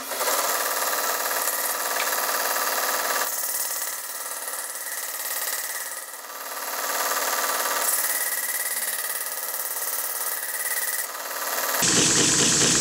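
A belt grinder runs steadily as a knife edge is honed to knock off the burr, a loud continuous abrasive whine with slight swells in level, ending in a brighter, harsher burst of contact near the close.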